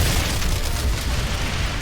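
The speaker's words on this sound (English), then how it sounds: "when the steam explosions go off" Steam explosions from the God Complex mod for GZDoom, a dense, continuous roar of overlapping booms and crackling bursts, loud and close throughout.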